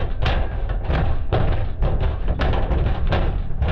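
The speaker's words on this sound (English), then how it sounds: "it's now moved to banging at the door, louder and louder the longer I dally" Loud, heavy thuds pound on a closet door, one strike roughly every half second in an uneven rhythm. The banging is close and continuous throughout, and no one talks.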